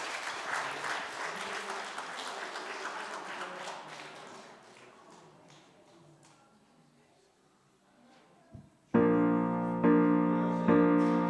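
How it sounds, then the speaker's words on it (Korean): A church congregation at a Sunday worship service applauds in welcome, dense clapping that fades over several seconds before loud music enters. "박수로 환영해 주세요."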